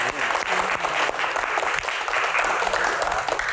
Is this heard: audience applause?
yes